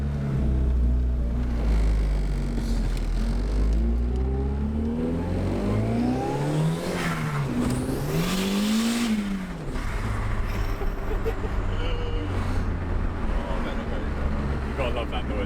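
A Mk2 Ford Fiesta sleeper fitted with a screamer pipe revs hard close by, its engine note climbing and falling in repeated sweeps over a loud, steady drone.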